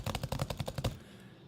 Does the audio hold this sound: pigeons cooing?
no